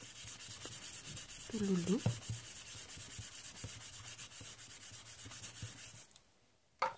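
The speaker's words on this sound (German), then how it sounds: "Nicht vergessen. Rubbeln." A greeting card being rubbed by hand during a Christmas card craft: a continuous quick, rhythmic scratchy rubbing close by, with a few small knocks, ending abruptly; a brief spoken word is heard.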